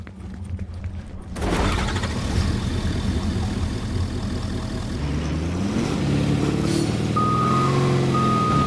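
A vehicle in the Fortnite video game starts up with a loud engine hum and idles steadily, while high reversing beeps sound in a regular pulse near the end.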